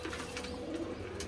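Soft, low pigeon cooing in a loft where pigeons nest with eggs and young squabs, a muffled steady murmur heard close and alone.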